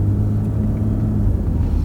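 Interior of a luxury car with original struts and 79,353 miles, driving over bumps, giving a steady loud low rumble with small thumps and no talking.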